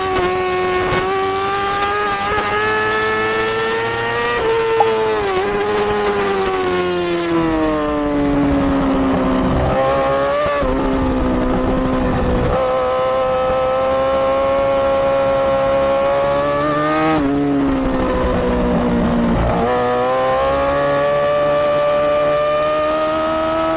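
A 600cc race motorcycle engine screams at high revs on a circuit, pitch rising through the gears with brief dips at shifts, loud and steady from up close throughout.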